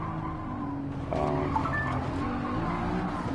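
A race car engine drones and revs in the video game Gran Turismo 7, then a brief tire squeal cuts in as it skids through a turn.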